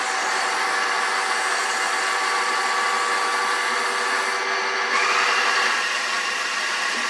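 A water softener filter refills its brine bin, giving a steady, loud hiss of rushing water with a constant whine, and a slight shift in tone partway through.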